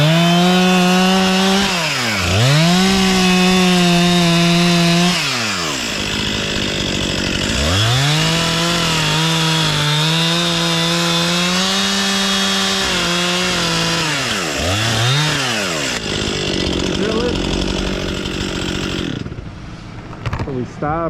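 Chainsaw making a back cut through a big dead hollow tree, loud and close, the engine revving high under load, dropping back and surging again several times, with speech heard faintly under it.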